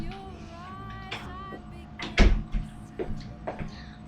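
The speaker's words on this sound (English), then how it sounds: "Let me get the door there just a second." A door is opened and closed indoors, with a thump and a rattle of the latch mid-clip followed by a few lighter knocks, over a faint background hum and a brief voice.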